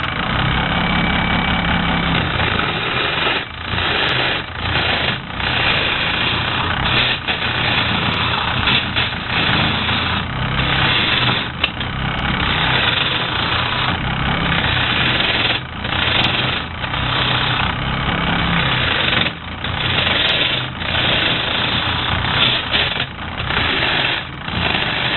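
A wood lathe turns a tigerwood bowl while a bowl gouge cuts it, giving a loud, continuous motor drone with rough cutting noise that barely wavers.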